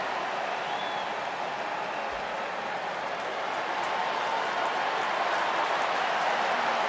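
Stadium crowd at Yankee Stadium during a Manchester City vs AC Milan football match applauds and cheers in a broad, sustained roar that swells slightly toward the end, distant and massed.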